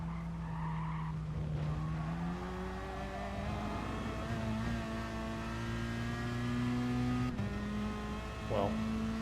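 Gr4 race car at Interlagos in GT Sport, its engine droning steadily and climbing through gear changes with tyre squeal and skidding, a continuous loud racing sound with no talk.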